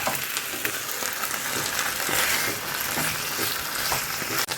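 Chicken fries in a pan with a steady, dense sizzle throughout, loud and close, with faint stirring noises and no talking.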